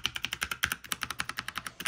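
Quick keystrokes on a computer keyboard at a gaming desk setup, a close and fairly quiet run of crisp clicks in an even, rapid rhythm with no talking.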